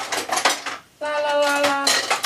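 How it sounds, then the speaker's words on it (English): Metal kitchen utensils clatter and clink as someone rummages through a drawer for an offset spatula, a close, busy jangle of cutlery with one ringing metallic tone standing out near the end. "Let me just grab my offset spatula."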